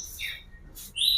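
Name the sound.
kacer (magpie robin) songbird chirping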